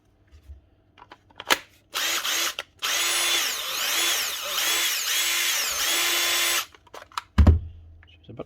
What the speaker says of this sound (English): Now we have a Makita Impact, a DTD 152.